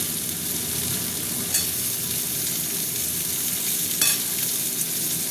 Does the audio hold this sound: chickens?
no